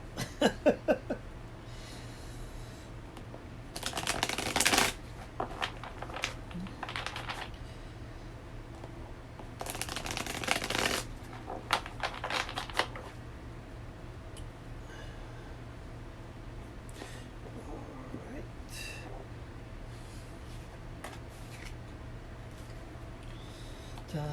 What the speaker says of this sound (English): I could have been shuffling already.